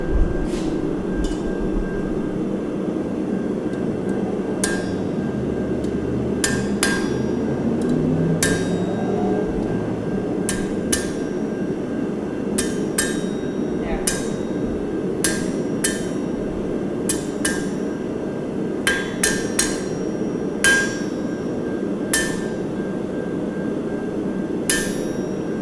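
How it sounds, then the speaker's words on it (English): Hot metal is hammered during blacksmith forging: sharp, ringing hammer blows land in irregular bursts and quick pairs over a steady background roar, likely from the forge. "when you hammer it and it starts to have a higher pitched, a ping, more of a ping"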